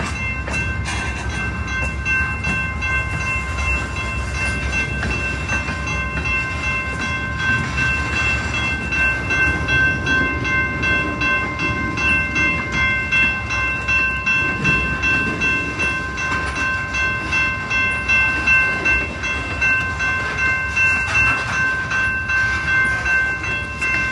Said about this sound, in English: All of a sudden, an unexpected train came for me.